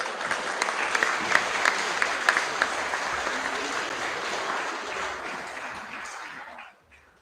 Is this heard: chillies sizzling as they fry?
no